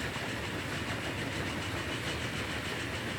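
A train running in the video game Transport Fever 2, a steady continuous rumble with rail noise at an even level throughout, no voices over it.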